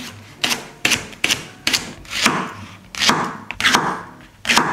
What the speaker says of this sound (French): Première étape, on commence par couper le poireau.